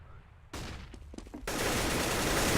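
Rifle fire from AK rifles in a Counter-Strike esports match between Portugal and Serbia at the European Championships: scattered sharp shots build into a sustained, loud fusillade of rapid overlapping gunfire.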